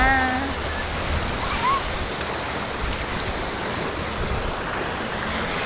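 Ocean surf rolls in a continuous broadband roar on a beach in Rayong, with faint wind and no clear talking.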